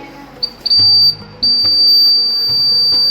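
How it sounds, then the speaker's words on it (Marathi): A student-built house bell buzzer, made from a textbook circuit and triggered when someone comes through the door, gives a few short high beeps and then one loud, piercing, continuous tone. "तेव्हा हे बझर वाजतं।"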